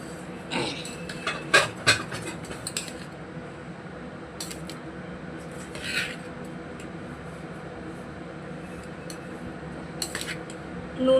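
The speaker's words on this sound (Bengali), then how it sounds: "নুনটা, বাটারটা, ভাতটা দিয়ে আমি মিশিয়ে দিলাম" Cooked rice being mixed with butter and salt, soft squishy scrapes and sporadic utensil clinks against a dish, fairly close and quiet.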